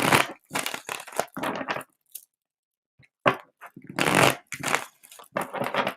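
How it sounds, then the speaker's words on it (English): A deck of tarot cards is shuffled in quick crisp bursts, with a short pause midway before more riffling, close and fairly quiet with no talking. "Lydia, let me get 2 more clearing shuffles in."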